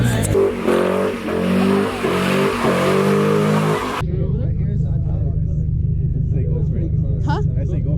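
A Nissan Z doing donuts in a canyon, engine revving hard with tire noise for a few seconds, then a lower steady drone as the engine settles.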